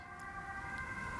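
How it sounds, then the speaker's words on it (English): A faint, distant ambulance siren wails steadily under a quiet room hush, its tone holding level throughout. "No, that's an ambulance."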